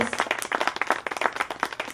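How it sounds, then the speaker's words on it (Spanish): A congregation claps at an outdoor Spanish-language religious gathering, dense rhythmic applause with many distinct hand strikes, loud and near, with no voices over it. "Denle un aplauso al Rey de Reyes y Señor de Señores."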